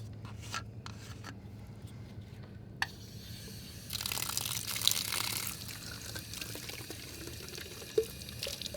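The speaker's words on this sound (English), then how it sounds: "We're going to collect 250 mils of water, which will be about right here at the top." Tap water runs into a tall 250 ml arsenic sample bottle during drinking-water collection, a steady, fairly quiet wash with a few light clicks and knocks from handling the bottle.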